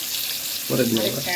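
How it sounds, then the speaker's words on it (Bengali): Eggplant dropped into a hot pan on the stove starts frying partway through, a steady close sizzle with a background hiss before it. "এটা আমি এখন বেগুনটা চুলাই দিয়ে দিই"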